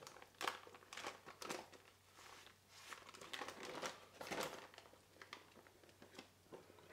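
Baking paper crinkles and rustles in soft, irregular bursts while a salmon, cheese and zucchini roulade is rolled up on a kitchen counter, close by and fairly quiet, with no talking.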